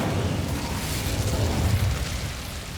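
The Incendio fire spell is cast in the video game Hogwarts Legacy. A loud, sustained roaring burst of flame rumbles continuously for a few seconds without easing.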